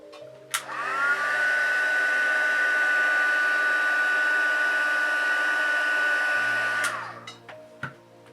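A heat tool blows steadily while heat-setting paper creases, a loud continuous whoosh with a whine that starts abruptly, holds for about six seconds, then cuts off, followed by a few light handling taps.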